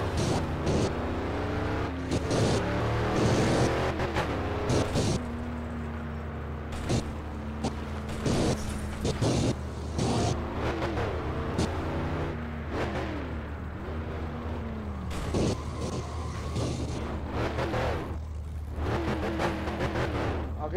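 Engine of the Dusty Man car in the game My Winter Car starts and keeps running for the whole stretch, a steady low drone with uneven bumps and revs. Faint mechanical creaks sound over it.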